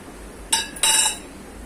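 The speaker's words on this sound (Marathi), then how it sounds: "पातेलं तापत ठेवले." A cooking pot is set on a stove to heat while making jeera rice for rajma chawal, giving two short metallic clinks close by, the second ringing a little longer, against quiet kitchen background.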